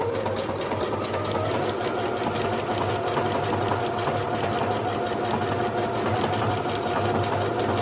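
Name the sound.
Singer HD 6805c sewing machine stitching at higher speed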